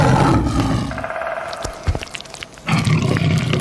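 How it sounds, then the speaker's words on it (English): A tiger roars loud and close in a rough, sustained growl that eases off midway and returns strongly at the end, with no talking. "Tiger."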